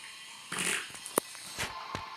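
Short, faint fart-like noises sound in a few separate bursts from a player during a live game session, with no talk over them.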